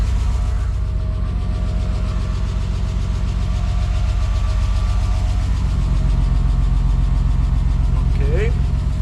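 A BMW E34 Touring engine running in a garage with the doors open, a steady low idling drone with a rhythmic pulse throughout, close and constant, with a voice speaking over it.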